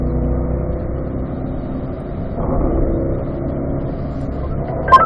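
A Corvette runs a race track downhill, its engine droning steadily and fairly loud from inside the car, with a slight rise midway and a brief sharp knock near the end.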